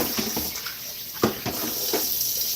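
Tap water running into a bowl while hog chitlins are washed, a steady close hiss of flowing water broken by a few splashy sloshes, with no talking.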